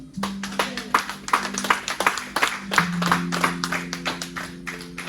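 Church congregation applauding God during a French-language sermon, a dense run of sharp handclaps over about five seconds with a sustained tone beneath and some voices mixed in.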